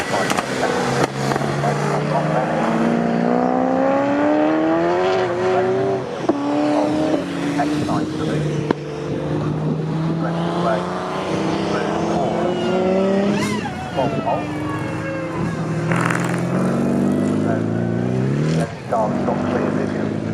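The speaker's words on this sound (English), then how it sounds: "I think Jack Robinson in the XK is edging up closer to the XJ40 this time through" Jaguar race cars, including an XK and an XJ40, lap Snetterton circuit on a wet, spray-covered track, engines rising and falling steadily as they pass, heard under continuous race commentary.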